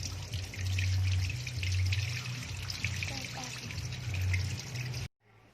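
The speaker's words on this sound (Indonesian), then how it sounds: "dilakukan pencucian di bawah air mengalir menggunakan wastafel" Temulawak rhizomes are washed under running water in a sink, a loud, steady stream with splashing and trickling that stops abruptly near the end.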